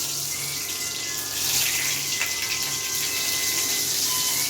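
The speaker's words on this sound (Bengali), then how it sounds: "জল দিয়ে দিই, অল্প একটু জল দিয়ে দিলাম" Water poured into a pot of dal during cooking, a continuous splashing gush that grows slightly stronger partway through, close and steady, with no talk.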